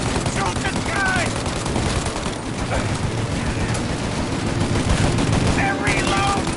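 Sustained gunfire in Mafia: Definitive Edition, with dense automatic bursts and overlapping shots in a loud shootout as voices shout over it.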